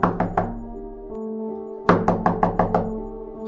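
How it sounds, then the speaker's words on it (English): Knuckles tap on a door in two quick bursts of sharp, hollow knocks, a few raps, a brief pause, then a faster run of five or six, close and fairly loud over a low droning background. "suddenly I turned around by the sound of tapping on the door behind me"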